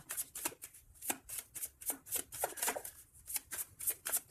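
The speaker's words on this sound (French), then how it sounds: "Allez, une carte pour cette masculin." Tarot cards are shuffled close by in a steady run of soft, crisp riffling flicks, quiet and alone with no talk.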